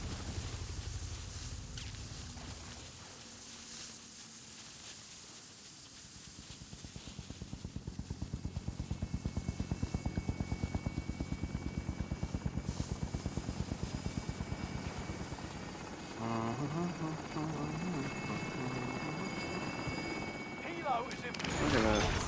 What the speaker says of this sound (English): Helo coming in for deposit.